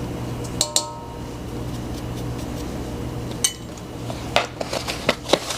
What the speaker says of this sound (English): Shake it up to reincorporate the contents.